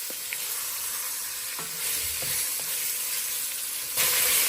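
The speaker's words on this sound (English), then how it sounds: "We're just going to put a sear on this beef stew." Floured beef stew meat sears in a hot pan with a loud, steady sizzle and hiss up close, swelling briefly as pieces shift and are turned.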